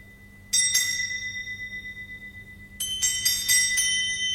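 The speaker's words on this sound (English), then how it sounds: "But soon it rang out loudly, and so did every bell in the house." Several house bells ring out loudly in two bursts of rapid, bright metallic strikes, the first brief and the second a longer flurry, with ringing tones hanging between hits and no talking.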